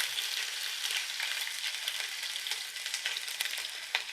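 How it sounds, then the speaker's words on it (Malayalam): Ginger and garlic frying in hot oil with popped mustard seeds for a fish head curry, a continuous bright sizzle with small crackles and stirring, fairly quiet and without voices. "ആദ്യം ഇഞ്ചി ഇട്ടു പിന്നെ വെളുത്തുള്ളി ഇട്ടു"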